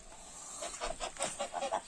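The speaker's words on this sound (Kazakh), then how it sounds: "Қаздар." Geese on a farm give a run of short, nasal clucking calls that repeat in quick pulses and grow busier toward the end, fairly close and with no talking.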